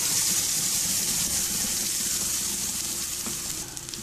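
Tomato chutney hits a hot tempering of popped mustard seeds and curry leaves, a loud steady sizzle and hiss of frying that continues unbroken, slightly settling toward the end.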